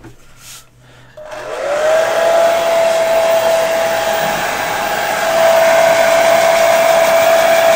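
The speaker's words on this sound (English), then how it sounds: "You should know exactly why I have a hairdryer." A hair dryer switches on and runs loudly and steadily, a close, even whine and rushing airflow held for several seconds without talk, during a model painting session.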